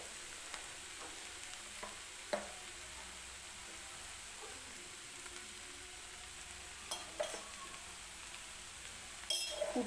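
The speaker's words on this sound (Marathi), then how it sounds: "कूट टाकलेलं आहे आणि परत एकदा व्यवस्थित ही पात मी मिक्स करून घेते" Cooked onion greens mixed with crushed peanuts are stirred in a pan, a soft low sizzle broken by occasional spatula scrapes and a few metallic clinks near the end, quiet and close.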